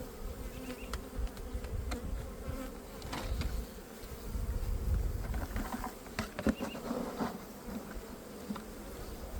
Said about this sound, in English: So this is the amount of bees which I'm gonna put